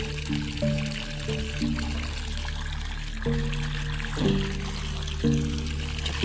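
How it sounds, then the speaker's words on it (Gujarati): Irrigation water pours steadily into a farm field in a Gujarat village, a continuous rushing flow with tonal background music over it. "તો આવી ગયું પાણી આપણું"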